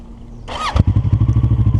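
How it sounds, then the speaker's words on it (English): A motorcycle engine fires up after a brief thump, then settles into a loud, steady, throbbing idle close by, ready for a burnout on a cement patch strewn with gravel and sand. "So the bike started, it's in neutral."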